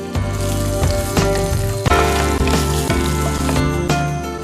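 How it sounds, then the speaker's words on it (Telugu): Curry leaves, green chillies and turmeric fry in a hot pan with a loud, close sizzle, broken by a few sharp scrapes and stirring knocks and backed by a faint musical tone. "ఒకసారి మళ్ళీ వీటన్నిటిని కూడా ఫ్రై చేసుకుందాం."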